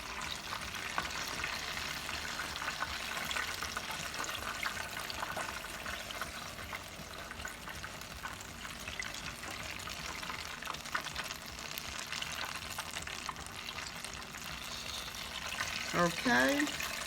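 Homemade Southern crunchy apple pies fry in a pan of hot oil, giving off a soft, steady sizzle that stays level throughout. Near the end a brief voice breaks in.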